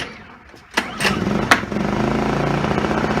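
A portable generator engine sputters through a couple of pulls, then catches and settles into a steady, fairly close idle as it warms up.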